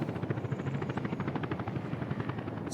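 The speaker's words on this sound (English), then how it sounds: "We've got a helicopter coming in" A helicopter flying in within the Workers & Resources video game, its rotor beating in a fast, even pulse that holds steady, moderately distant and alone.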